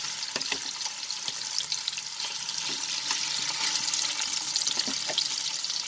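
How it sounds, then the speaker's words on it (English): Prawns in hot mustard oil sizzle with a steady, bright crackle, scattered pops and small clinks close by, fairly quiet, with no speech. "We will slowly drop these prawns into this hot oil and just fry it for 2 minutes."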